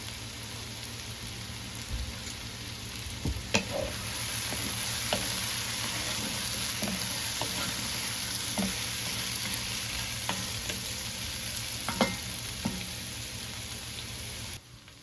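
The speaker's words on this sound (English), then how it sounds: "I got my skillet ripping hot. These are ground chuck burgers." Third-pound ground chuck burgers fry in a ripping hot skillet, a dense crackling sizzle with scattered pops and spatters throughout, close and steady, no speech.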